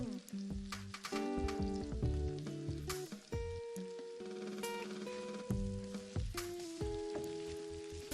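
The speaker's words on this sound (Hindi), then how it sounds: "अब इसमें रेड चिली पाउडर वो डाल देते हैं और अच्छी सी भुनाई कर लेते हैं।" Red chili and turmeric powder fry in a pan of spices for kadhi pakora, a steady crackling sizzle broken by loud metallic stirring clanks and scrapes, close and without talk.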